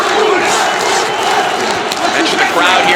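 Boxing arena crowd roaring for Badou Jack during a fight against Norair Mikaeljan, a dense, loud, continuous wall of cheering and shouting with announcer commentary mixed in over it.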